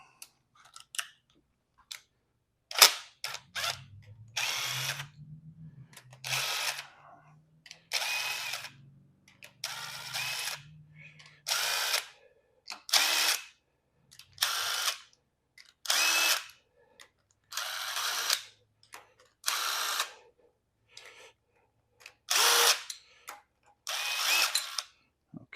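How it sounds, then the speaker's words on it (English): Power driver zipping loose the bolts on a Ford F-150 engine during teardown, a dozen or so short whirring bursts in a steady rhythm with brief pauses between, close and clear. "I'm going to then use the driver to just speed up the process a little bit."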